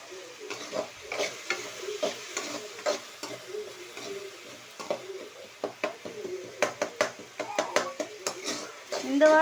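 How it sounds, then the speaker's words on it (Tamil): Sautéing for a fish curry: a spoon scrapes and stirs through sizzling ingredients in a pan, with steady clinks and scrapes over a soft frying hiss, close and moderately loud, with a voice briefly heard. "நல்லா ஒரு 10 நிமிஷம் நல்லா வதக்கிக்கிட்டே இருந்தீங்கன்னா அது கொஞ்சம் நல்லா வதங்கிடும்."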